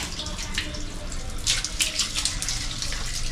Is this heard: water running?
yes